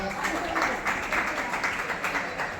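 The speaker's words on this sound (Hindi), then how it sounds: "बहुत बढ़िया, जोरदार तालियां।" An indoor audience claps in a dense, sustained round of applause at moderate level, with a voice speaking over it.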